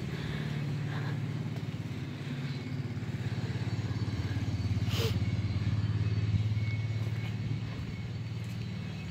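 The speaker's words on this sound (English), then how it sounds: "Tractor fired up on the first time" The engine of a Sears Suburban Hydro 16 garden tractor running at a steady idle: a close, continuous low chugging rumble with a brief sharp clatter near the middle, and no talking.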